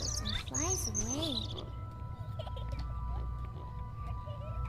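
A robin in an SCP video game gives a few quick, bright chirps up front, then fades into a quiet low hum with faint flutter; a voice talks over it.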